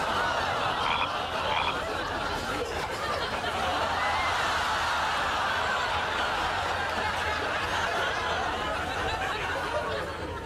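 Live frogs used as balls in a comedy cricket match, croaking in a dense, continuous chorus of rasping calls at moderate level, with possible chuckling mixed in.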